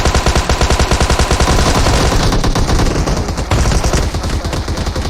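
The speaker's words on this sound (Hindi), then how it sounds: "यहाँ पे इतने सारे गन फायर" Rapid automatic gunfire from PUBG Mobile rattles loudly and continuously in fast repeated bursts, with overlapping shots filling the whole stretch.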